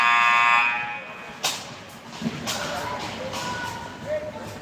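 The end-of-period buzzer sounds at a girls' ice hockey game, a loud sustained electronic tone that cuts off after about a second, followed by arena crowd noise and a commentator talking.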